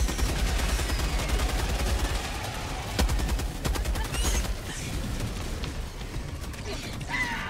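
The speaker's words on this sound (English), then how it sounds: "Try to deal with it with the MG." Heavy machine gun firing in Helldivers 2, loud rapid bursts of shots rattling close by over a mechanical clatter. The bursts run steadily with short pauses throughout.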